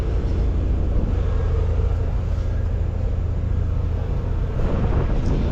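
A Massey Ferguson tractor engine rumbles steadily nearby, a continuous low drone with broadband hum that holds level throughout, with no talk.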